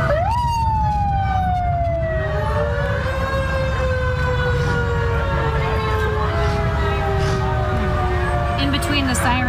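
Several rural fire department fire trucks move through a parade, their sirens wailing in long gliding sweeps that rise and fall over a steady rumble of engines and crowd noise.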